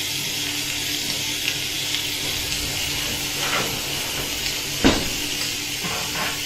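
Pork pieces sizzling on a hot tray just out of the oven, a loud continuous hiss with a few sharp spits and crackles, no talking.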